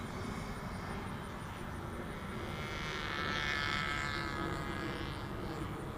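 A Freewing Stinger 90 RC jet makes a mid-throttle pass, its ducted-fan whine a steady roar that swells slightly as it goes by, heard outdoors without talk.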